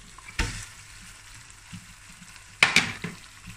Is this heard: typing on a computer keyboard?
no